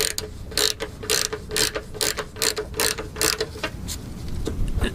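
A wrench ratchets in quick, uneven bursts of clicking as it loosens a clutch line fitting on an NV5600 transmission, close and fairly clear with no talking.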